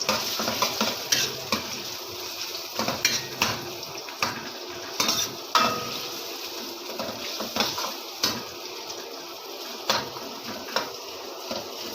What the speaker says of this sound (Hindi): जितनी देर तक प्याज हल्का फ्राई नहीं होगा, लाइट ब्राउन, पकाते जाएंगे।